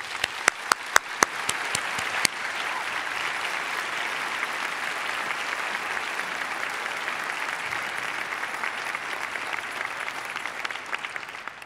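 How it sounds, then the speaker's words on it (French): Audience applause for honoured guests at a university education faculty graduation ceremony, starting with a few sharp isolated claps and swelling into a steady, full round of clapping from a large crowd. "Applaudissons nos invités d'honneur."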